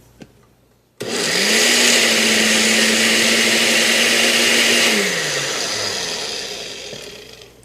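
A countertop blender whirring through a thick carrot-based sauce, switching on abruptly with a loud, steady motor roar and high grinding hiss, holding for several seconds, then winding down as the motor slows.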